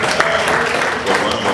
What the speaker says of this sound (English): So, please, with a round of applause,